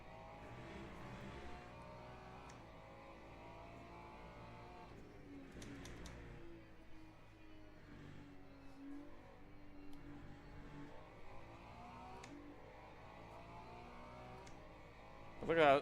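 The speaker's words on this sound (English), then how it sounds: "Look at how snappy on the Porsche is on acceleration." A Porsche in a racing game accelerating, its engine note rising and shifting through gears at a steady moderate level, with a faint voice underneath and a sharp burst at the very end.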